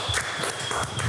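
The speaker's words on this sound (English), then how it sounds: "help me give me a round of applause for Pirates Fives." Brief applause from a crowd at Africa's biggest five-a-side football tournament, with a short burst of uneven clapping up close.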